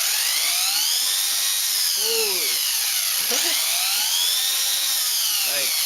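The electric motor of a Turnigy 4WD 1/16 Monster Beatle RC truck revs hard, a loud, close, high-pitched whine that sweeps up and down in pitch several times without pause.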